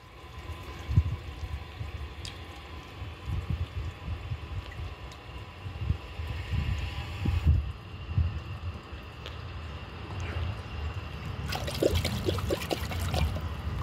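Water poured into a Cadet toilet bowl, a soft trickling and splashing under low rumbling background, close and moderate in level, with a brighter splashy burst near the end.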